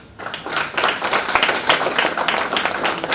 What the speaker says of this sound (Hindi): आप सबकी तालियां अपेक्षित हैं